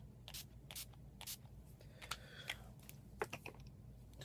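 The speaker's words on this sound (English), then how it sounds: "let me go ahead and spray that down. So again, the NYX Matte Setting Spray." NYX Matte Setting Spray misted from a pump bottle in a series of short, soft hisses in a quiet room, several bursts a fraction of a second apart, plus a few light clicks.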